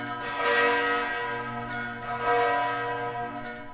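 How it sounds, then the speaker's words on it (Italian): Seminary church bells in Vittorio Veneto tolling in mourning for Pope Francis, overlapping resonant strikes that ring out and swell in slow waves, with a dense sustained hum between peals. "Anche le campane del seminario, insieme alle campane della cattedrale e a tutte le campane della diocesi"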